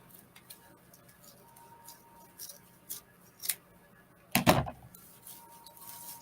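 Scissors trimming material for a craft piece, a string of soft close snips building to one louder, longer cut, quiet and with no talk.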